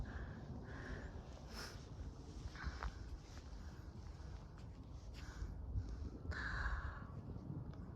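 Crows cawing outdoors in open countryside at sunset, several harsh calls spread across the span, fairly distant over steady wind and faint rustling footsteps.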